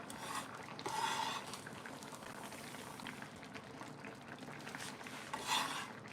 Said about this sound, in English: Kind of get all of them scraped off of my pan here.